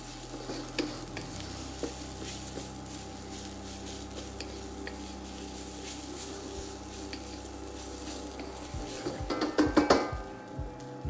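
Egg fried rice frying in a pan makes a steady low sizzle with light stirring scrapes, then a burst of louder clatter and scraping near the end.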